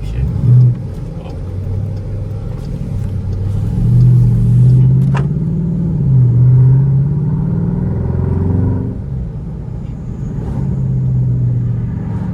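A Dodge Durango SRT engine rumbles and swells through late-night acceleration runs in Miami, the throaty revs rising and falling loudly up close, with people talking over it inside the cabin.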